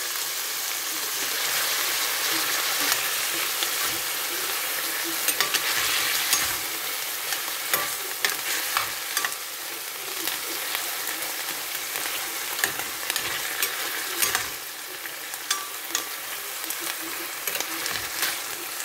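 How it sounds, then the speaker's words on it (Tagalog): Beef with soy sauce stir-frying in spattering oil for ampalaya con carne, a continuous crackling sizzle with scattered sharp pops and spits, moderately close and without talk. "lutuin lang natin ang beef, mga lalab. Ayan. At mapisik ang ating mantika."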